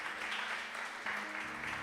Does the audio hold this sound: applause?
yes